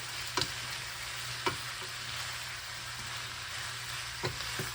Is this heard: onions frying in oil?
yes